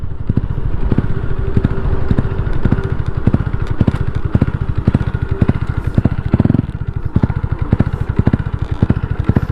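A Honda Dream 53 motorcycle with a lightly modified lower engine, stock stroke and small sprocket, running under way: a loud, close, rapid single-cylinder putter that stays steady throughout, with mechanical clatter and no talk.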